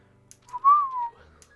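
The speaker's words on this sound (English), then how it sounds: "He whistled to himself, barely looking at the text." A game character in Beacon Pines whistling to himself, one short rising and falling tune, clear and close against a quiet background.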